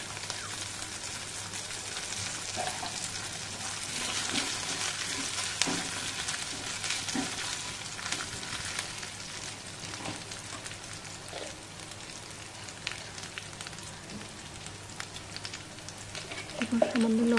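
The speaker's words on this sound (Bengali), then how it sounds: "তেলে ভেজে নেব।" Onion with ginger and garlic paste frying in hot oil, giving a steady, even sizzle throughout, with occasional faint stirring scrapes.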